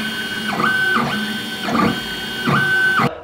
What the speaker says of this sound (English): what I'm gonna show you guys is my 3D printer.